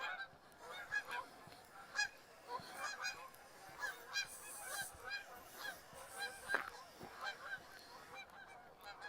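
Canada geese honk repeatedly at sunset during a December walk north of Regina Avenue in Regina, their calls overlapping in irregular bursts at a moderate distance over steady outdoor ambience.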